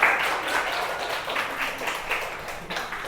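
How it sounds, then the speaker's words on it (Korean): A church congregation applauds the children's department during Sunday worship, a steady wash of many hands clapping that lasts a few seconds at moderate loudness. "우리 아동부들을 위해서 우리 크게 한번 박수 한번 쳐줄까요?"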